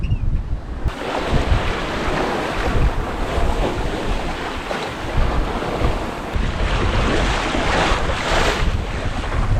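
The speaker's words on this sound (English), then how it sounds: "We have been beating into the waves for 3 hours now" Steady rushing wind and churning water slap against a sailboat's hull, a continuous loud roar as it beats into waves.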